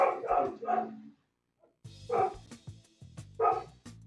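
Dogs barking through a call during a Sheep Raiders game session, a few loud bark bursts in two groups separated by a short silence.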